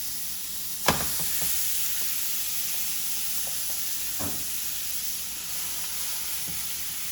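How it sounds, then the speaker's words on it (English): Pork chops searing in a pan on high heat give a steady, loud sizzle and hiss throughout, with a few faint clicks and one sharp tap near the start. "You want to hear it seared."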